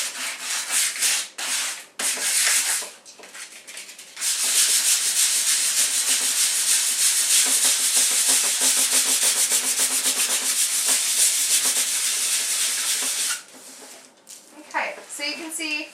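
Sandpaper rubs over chalk-style painted wood on a table being distressed, a close, rhythmic rasping scrub held for about ten seconds, with brief talking before and after.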